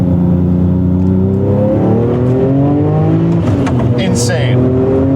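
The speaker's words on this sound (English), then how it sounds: "I gotta do another second gear hit." A modified Ruf Porsche 911 accelerates hard in second gear, its engine note climbing loudly and steadily from inside the cabin as the revs rise, while someone talks over the roar.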